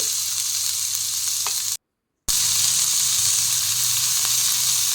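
Finely chopped onion fries in a pan for kadai paneer, a loud, steady, hissing sizzle with faint stirring taps; the sound cuts out completely for a moment before resuming.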